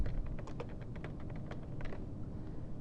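Fingers tap rapidly on a computer keyboard, a close string of light clicking keystrokes in an irregular rhythm against a low background hum.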